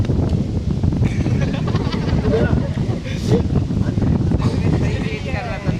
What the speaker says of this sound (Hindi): हवा चल रही ना